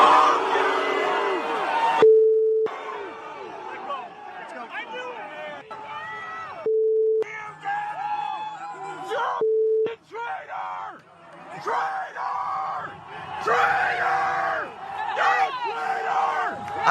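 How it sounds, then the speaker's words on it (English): Philadelphia Eagles fans scream and chant loudly as a crowd, broken by short steady tones between bursts of shouting, with people talking throughout. "That was them screaming at Santa Claus."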